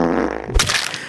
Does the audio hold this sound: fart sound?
yes